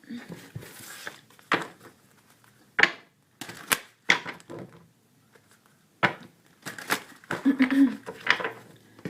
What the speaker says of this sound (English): I cut the deck in 3 parts, return it.